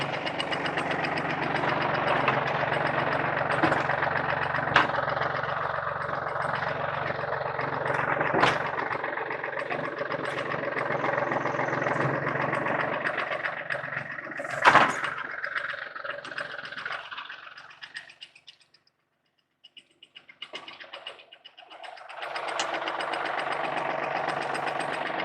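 A tractor engine idling while post holes are drilled for a pole building, a steady mid-pitched knocking rumble close by that dips nearly silent for a few seconds before returning.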